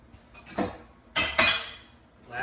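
Mac and cheese stirred in a pot with a utensil, giving a few scraping, clinking knocks against the metal, two louder strokes close together mid-way, with no talking.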